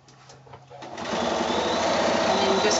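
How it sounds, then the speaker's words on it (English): A sewing machine stitches binding around a quilted shoulder bag. A faint start gives way to a steady, close, fast mechanical whir that carries on to the end. "And then just keep sewing until I meet up with my starting point."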